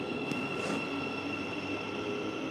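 A train at a railway station produces a steady, even rumble with a faint high whine running throughout, heard at moderate distance and with no talking.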